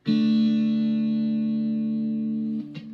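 Guitar through an amplifier's onboard chorus effect, a sustained chord ringing steadily for about two and a half seconds with a shimmering, slightly wavering tone, then a brief stop and a faint new strum at the end.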